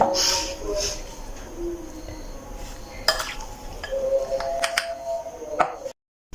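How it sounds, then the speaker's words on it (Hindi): Boiled potato filling with chopped green coriander being stirred in a bowl for aloo naan: close, intermittent spoon clinks and soft scraping against the bowl, with no talking. "अब इनको अच्छी तरह से मैं करती हूँ मिक्स।"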